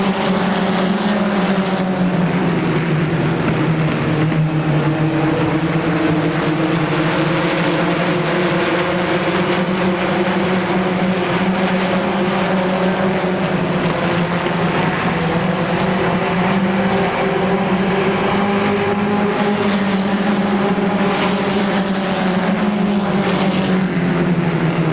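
Race cars roaring around a speedway oval at Motordrome Speedway, a loud, continuous pack of engines whose pitch rises and falls as they pass by and complete a lap, with no break.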